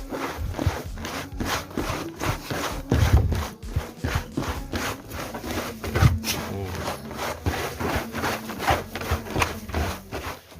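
Sheep feed mixture being stirred by hand gives a steady, rhythmic scraping and rubbing, repeated strokes close up with no talking.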